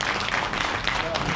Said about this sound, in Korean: 시장님께 우리 다시 한번 큰 박수 부탁드리겠습니다